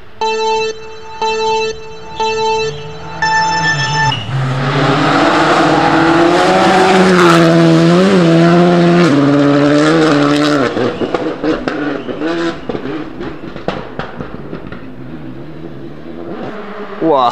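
Rally cars roaring past on a gravel stage at the Rallye Terre de Lozère, a loud engine surge rising and falling as a car passes close, with tonal beeps at the start and gravel spatter afterward.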